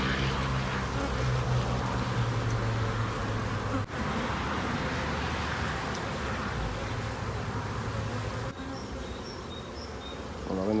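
Honeybees drone loudly and continuously around an open hive while two colonies are merged, a dense, close buzz that holds steady, with a couple of brief dips.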